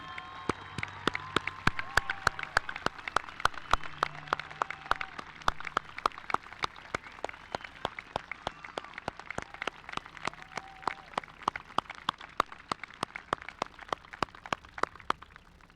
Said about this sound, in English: please join me in applauding this remarkable group of individuals